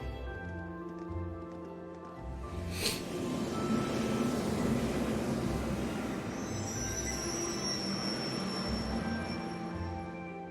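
A train pulls into a station platform in the video game Trails of Cold Steel, a steady mid-level rumble of wheels and carriages with a sharp metallic click and faint high squealing as it slows.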